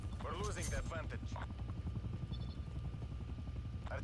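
A helicopter in Call of Duty: Cold War, its rotor chopping as a steady rapid thump underneath, while a voice cuts in briefly over it.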